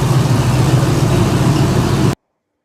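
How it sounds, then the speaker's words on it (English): A small 323 muscle car engine with a mild cam and C4 automatic runs steadily close by, a loud even rumble for about two seconds before cutting off abruptly. "Really strong running little engine."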